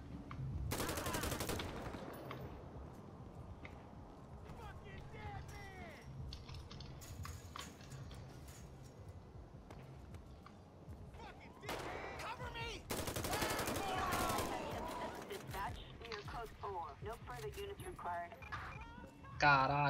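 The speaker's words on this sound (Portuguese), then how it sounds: "Estamos aqui no meio de um tiroteio" Video-game gunfire from a GTA V shootout: loud bursts of rapid shots near the start and again around the middle, with scattered pops and game ambience between them.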